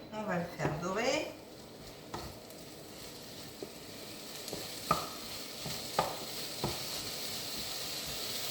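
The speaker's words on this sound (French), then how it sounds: "le chorizo, 60 g de chorizo qu'on va faire dorer" Sixty grams of chorizo browns in a pan for a chickpea stew, giving a steady crackling sizzle with scattered clinks of stirring. A voice is heard briefly at the start.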